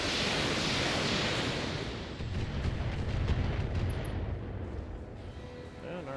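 Heavy mech weapons fire in the BattleTech strategy game, opening with a loud sustained roar of blasts that eases and then rumbles on with scattered crackling impacts.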